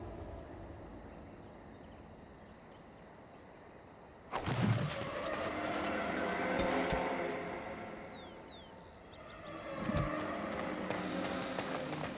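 Horses' hooves clip-clop in a rhythmic gallop as riders arrive in the fantasy role-playing game Dragon Age: Origins, with steady outdoor ambience and crickets, the hoofbeats swelling nearer in two loud bursts.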